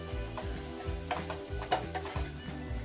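A spoon stirs turmeric through bitter gourd curry frying in oil, scraping the pan in a steady rhythm over a soft, continuous sizzle, close and moderately loud.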